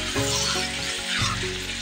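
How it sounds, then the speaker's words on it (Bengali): Tender sweet pumpkin fry being stirred in a hot pan, with steady close sizzling and soft scraping of the pieces as they are turned. "ভাজিটাকে একটু নেড়ে চেড়ে দিলাম"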